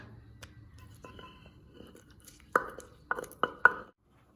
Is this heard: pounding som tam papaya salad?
yes